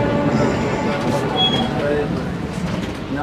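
Interior of the fully air-conditioned Garib Rath Express from Kolkata to Puri, with a steady low rumble of the coach and a dense background murmur of passengers.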